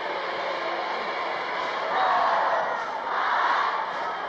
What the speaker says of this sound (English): The crowd is roaring their disapproval.